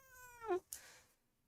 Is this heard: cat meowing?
yes